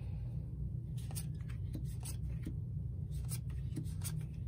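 Board game cards are shuffled by hand, giving a series of quick papery riffles and soft slaps in irregular bursts, close and moderately quiet over a steady low background hum.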